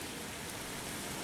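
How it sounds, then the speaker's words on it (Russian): Steady rain falls outdoors on a street, a soft, even hiss with no distinct drops, continuous and fairly faint for the whole moment, with no voices. "Дождь на улице идет"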